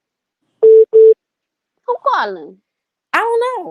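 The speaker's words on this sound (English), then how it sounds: "that's the phone" A telephone line tone during a call sounds as two short, identical steady beeps close together, followed by people talking briefly.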